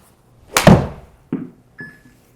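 A golf club striking a golf ball during a swing drill: one sharp, loud impact followed by two fainter knocks, close by and with no talking.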